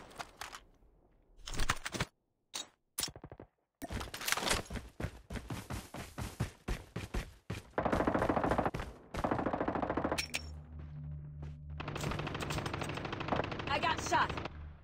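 Call of Duty Mobile battle royale gunfire on Alcatraz: bursts of automatic shots and sharp single cracks come in loud rapid volleys, with short gaps and a lingering rumble of game ambience between them.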